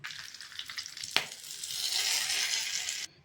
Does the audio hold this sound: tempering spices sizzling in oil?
yes